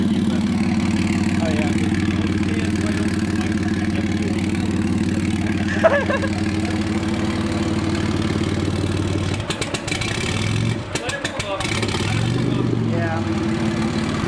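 A Nissan VG30ET turbo V6, freshly installed in a Z car and running on its stock ECU, idles with a steady, close, rumbling hum. Brief throttle blips and clattering come near the end, with people talking over the engine.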